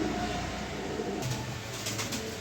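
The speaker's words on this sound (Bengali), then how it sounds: "এখানে এক পিস রেড চেকার নর কবুতর দিলাম ড্রাগন লাইনের" A red checker male pigeon of a Dragon line coos close by, a low, soft throaty rumble that builds in the second half over a constant background hiss.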